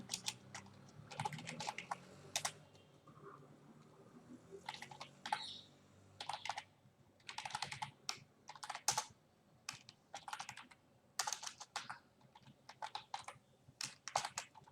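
Fingers type on a computer keyboard while code is written in Visual Studio, quick bursts of close, crisp key clicks separated by short pauses, soft and alone.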